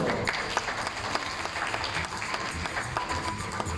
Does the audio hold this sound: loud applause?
yes